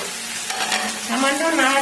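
Bengali-style vegetable fried rice is stirred in a hot pan, making a close, loud hiss of sizzling grains with scraping, shuffling strokes of a spoon.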